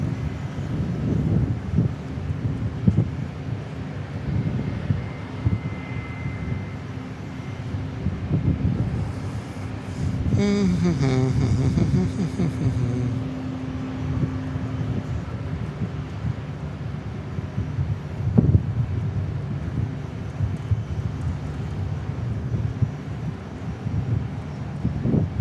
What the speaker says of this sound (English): No, this is Challenger.